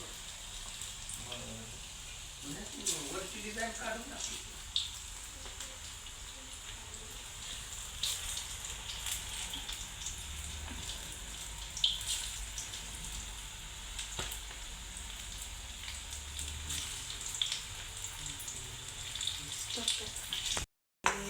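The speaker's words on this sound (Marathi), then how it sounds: "मग हे बघा मकाचं आपलं भजे कसं ऐकतं" Corn bhaji, maize fritters, frying in oil, a continuous crackling sizzle like light rain that runs throughout, with someone talking briefly over it near the start.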